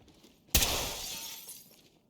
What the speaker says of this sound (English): Just breaking the glass so I can see.